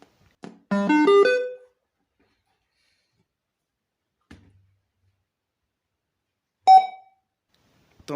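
A homemade mini Bluetooth speaker switches on with a short rising run of electronic tones, then stays quiet until a single clear beep sounds several seconds later and another blip at the end, all alone and fairly loud.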